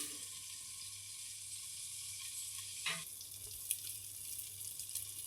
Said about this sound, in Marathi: यात थोडंसं पाणी घालूया गरम पाणी